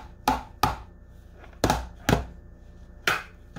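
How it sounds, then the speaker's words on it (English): Several sharp taps of an egg against a hard edge, close and distinct, landing in uneven pairs and singles with quiet gaps between, while preparing eggplant lasagna. "I'm going to crack this egg"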